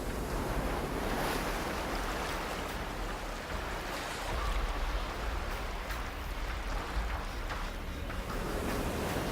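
Ocean surf on an Indonesian coast rolls and crashes continuously, a loud, steady broadband wash with wind noise across the microphone and no voices.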